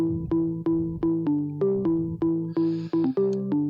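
Sustained organ-like synth chords from layered organ sounds, including a Korg M1 organ, with a sharp percussive attack on each note, stepping through a short sequence, close and alone.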